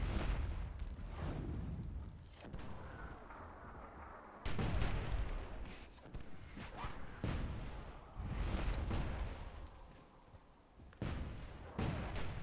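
Bombs exploding in the strategy game Myth II Soulblighter, a dense run of deep booming blasts and rumbles repeating one after another, loud and continuous across the battle.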